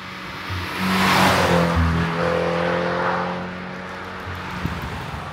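A Toyota GT86 sports car driving through tight turns, its engine note rising and falling as it accelerates and eases off, heard from inside the cabin with a steady hum beneath.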